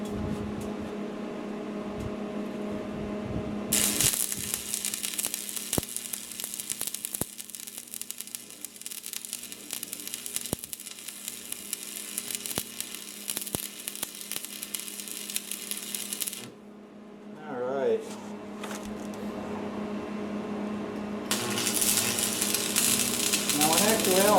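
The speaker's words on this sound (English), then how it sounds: "Now I can weld the whole thing straight across." Welding along a utility trailer frame produces a steady crackling sizzle in long bursts, with a pause between runs and a voice speaking during the gap.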